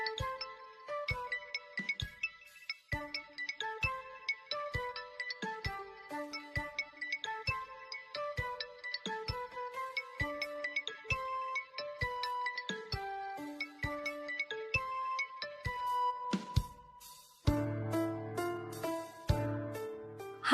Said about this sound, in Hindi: चमेली, तुम्हारा फोन बज रहा है।